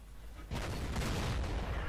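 A single IS-7 heavy tank cannon shot in a tank video game, one sudden loud boom that cuts in after a quiet half second and rumbles on without fading.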